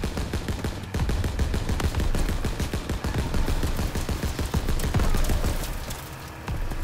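Dense, continuous gunfire rattles in a Call of Duty WWII battle, with rapid overlapping shots and bursts at close range and little pause between them.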